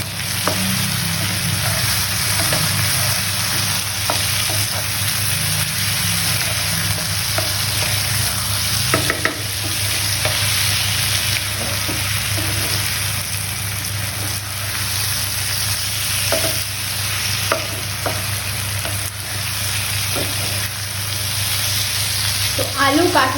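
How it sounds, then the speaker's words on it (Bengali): Potato and jackfruit curry being stirred and sautéed in a pan, with a steady close sizzle of frying and repeated scraping stir strokes throughout, no talking. "ভালোভাবে কষাবো"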